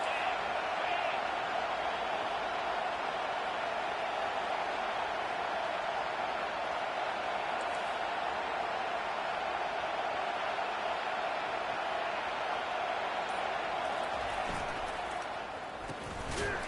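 Stadium crowd at a football game roaring behind the defense on a third down, a steady, dense wall of cheering noise that holds for the whole stretch, with faint commentary underneath.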